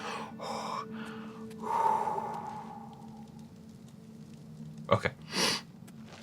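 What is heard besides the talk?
sneeze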